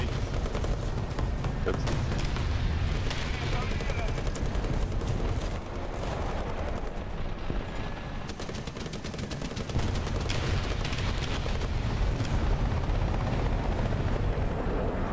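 Gunfire crackles and rattles in bursts over a helicopter's steady rotor drone during a War Thunder match, while a player briefly speaks.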